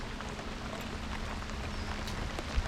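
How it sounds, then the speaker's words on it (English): Rain falling on a bass fishing boat on Santee Cooper Lakes, a soft continuous patter of drops with occasional sharper taps and a faint low hum beneath. "now we're getting rained on without a rain suit again"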